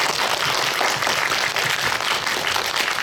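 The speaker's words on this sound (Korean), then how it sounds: "박수 한번 부탁드립니다" A packed cinema audience at a Seoul Independent Film Festival screening Q&A claps for a director, loud, dense and continuous applause filling the whole three seconds with no voices.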